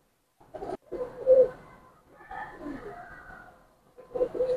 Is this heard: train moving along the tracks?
no